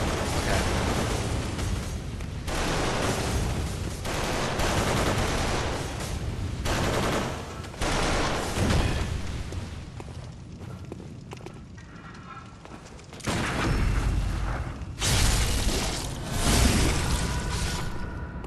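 Turrets firing during a fight in the video game Bloodborne, with dense, sustained bursts of gunfire and blasts that keep up almost without letup and grow loud again near the end, with no voices heard.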